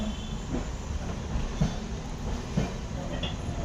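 Passenger train pulling out of Shantipur junction on a winter night, a continuous low rumble of rolling carriages with occasional clanks and wheel knocks, moderately quiet and steady.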